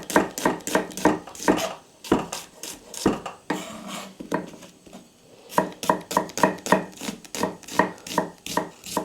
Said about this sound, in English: I've got some small onions that I'm going to thinly slice